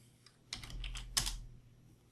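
A few quick, quiet keystrokes on a computer keyboard at a command prompt, a short burst of light clicks in an otherwise quiet room.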